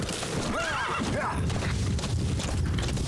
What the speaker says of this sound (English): It's just the horse.